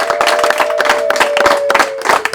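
Audience applause at a Rwandan comedy show: dense, steady clapping from many hands across the whole stretch, close and fairly loud, with a sustained tone running underneath for most of it.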